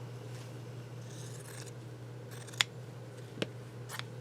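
Scissors trim a fabric swatch for a junk journal, a few faint, sparse snips and scrapes against a quiet background hum.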